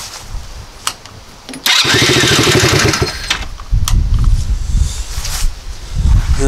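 A small four-wheeler engine running after a CDI box replacement, revving in rough loud bursts with sputtering gaps between them, close by and with no talking.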